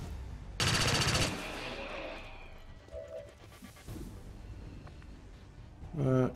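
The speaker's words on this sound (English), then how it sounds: "You fire your pistol." A pistol firing in XCOM 2: War of the Chosen, a loud burst of shots near the start followed by a quieter tail of game effects and mechanical clatter, with no talk.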